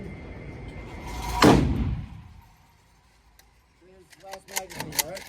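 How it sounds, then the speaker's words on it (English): One sharp, loud gunshot from a micro Draco pistol fired at a target 20 yards away cracks out over quiet outdoor background, decaying quickly, followed by chirpy tones and faint clicks. "So this is my attempt at a headshot."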